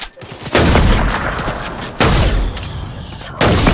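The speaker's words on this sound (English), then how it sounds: "Got this lava gun" Fortnite lava gun fires in three loud, roaring blasts, each sustained for over a second, with short quieter gaps between them.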